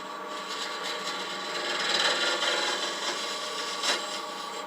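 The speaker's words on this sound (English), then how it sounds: "This is too hard a wood to be cutting it with a conventional scraper with a burr" A conventional scraper with a burr cuts hard wood spinning on a lathe, making a continuous rough scraping rasp that swells and eases slightly, loud and close with no voices.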